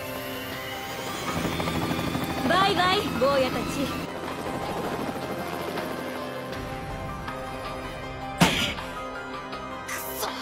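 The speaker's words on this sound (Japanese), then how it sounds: "敵のヘリだ、あれで脱出しよう。" An animated helicopter's rotor thrums under animated voices and music, with a sharp impact and burst of noise near the end.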